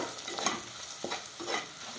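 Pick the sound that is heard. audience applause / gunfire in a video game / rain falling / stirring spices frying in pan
stirring spices frying in pan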